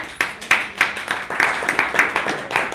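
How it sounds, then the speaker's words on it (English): Audience members at a learning-game workshop giving themselves a round of applause, a sparse group clapping in distinct close, sharp claps with a loose uneven rhythm over a few seconds. "Give yourself a round of applause."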